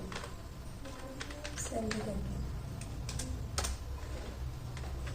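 Computer keyboard keys are tapped in quick, uneven clusters of sharp clicks as someone talks over them while entering text in an Excel spreadsheet.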